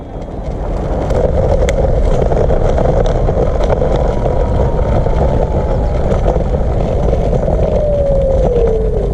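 An eTwow GTS 2022 sport electric scooter rides along with loud, steady road and wind rumble. Under the rumble runs a motor whine that slides down in pitch as the soft KERS regenerative braking engages.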